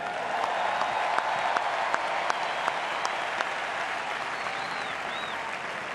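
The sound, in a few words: crowd applauding the coaching staff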